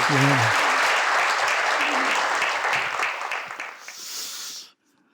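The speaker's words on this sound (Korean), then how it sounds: "우리 김영석 교수님을 우리 박수로 모시도록 하겠습니다." Applause fills a hall as an elderly professor, author of a book on living to 100, is welcomed onto a church TV lecture stage; steady loud clapping with a voice briefly at the start, fading out near the end.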